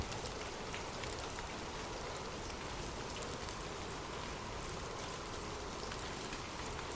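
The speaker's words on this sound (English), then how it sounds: "Imagine gentle raindrops falling softly on leaves" Gentle rain falls softly onto leaves in a steady, even patter that continues without pause, with no voices.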